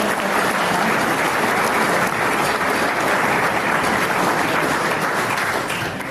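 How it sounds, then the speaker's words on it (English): Dense, steady applause from an audience at a football-netball league awards night, a continuous wash of clapping filling the whole stretch without a break. "another round of applause for our 17 and under"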